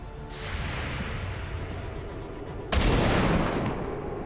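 A gunshot in the video game XCOM 2 cracks loudly and abruptly midway, with a booming rumble that trails off over a steady roaring game background.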